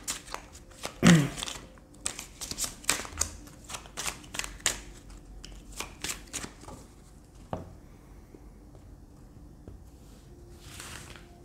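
Tarot cards from the minor arcana are shuffled by hand in a rapid series of crisp riffling snaps, with a louder burst at the start and quieter gaps, close and without talk.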